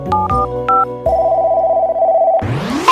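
Telephone dialing tones from a kids' cartoon: a few short keypad beeps, then a long steady ringing tone that gives way to a rising sweep, loud and clear with no talking.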